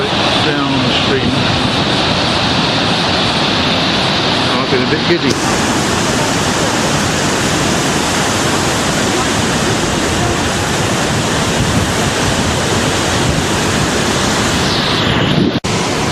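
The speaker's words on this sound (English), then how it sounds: "now you can see the full size of the waterfall, reaching quite a number of metres across the river" A broad waterfall spanning a river in Iceland roars steadily and loudly, a dense unbroken rush of falling water filling the whole scene, with a brief voice heard faintly over it.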